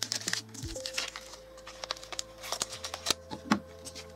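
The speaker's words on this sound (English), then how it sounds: "I'm going to cut some off." Scissors snip through coloured paper in a quiet room, giving a series of small, crisp cuts and crinkles at an uneven pace, close and fairly soft, with a steady low electrical hum behind.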